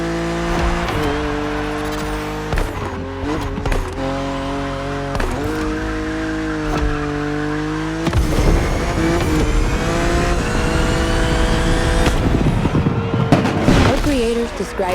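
A BMW races along open roads in The Crew Motorfest, its engine loud and close, revving up and down through gear changes with tyre squeal and a harder acceleration in the second half, while voices talk over it.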